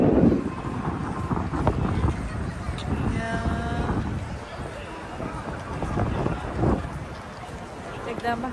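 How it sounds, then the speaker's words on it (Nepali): Strong gusting wind at Hakata Station in Fukuoka buffets the microphone with rumbling, uneven blasts while a person talks. "एकदम हावाहुरी लगाइरहेको छ।"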